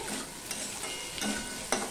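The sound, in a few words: onion, garlic and potatoes frying and stirred in pan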